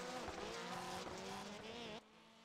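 Race cars in the iRacing sim roar through a Super RallyCross event at Sonoma Raceway, engines loud and continuous with harmonic whine and some tire squeal, cutting off sharply near the end.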